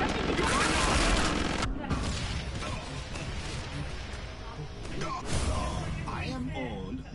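A loud, dense barrage of gunfire in the video game Killing Floor 2, with crashing impacts that run almost continuously. A voice speaks over it throughout.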